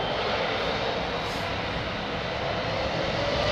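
A steady, loud, broadband roar of jet aircraft taxiing at an airport, a Convair 880 and a Jetstar, a constant engine rush with no breaks or voices.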